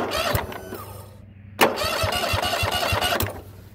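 A Kohler Courage V-twin mower engine cranking, catching with a sharp pop, then settling into a loud, steady idle.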